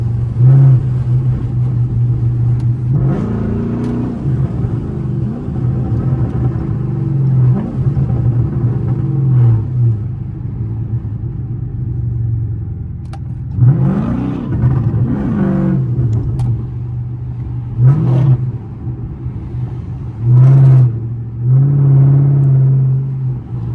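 A Chrysler 300C accelerating hard, its engine droning loudly and rising in repeated pulls through the gears with brief dips between shifts, heard steadily from inside the car.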